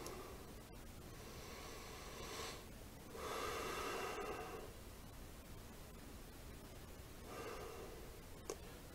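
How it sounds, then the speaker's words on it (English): Slow, deliberate breaths in and out, with long airy inhales and exhales separated by quiet pauses, close to the mic over a steady hiss. "I am now breathing in, I am now holding, I am now breathing out, I am now holding."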